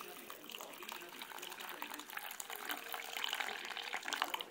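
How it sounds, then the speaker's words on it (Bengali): Water is poured into bowls to soak soybeans and lentils, a soft, uneven splashing and trickling that grows slightly louder toward the end, with a voice talking faintly over it. "সয়াবিনটাতে একটু জল দিয়ে ভিজিয়ে রাখবো আর ডালটাতেও একটু জল দিয়ে ভিজিয়ে রাখবো"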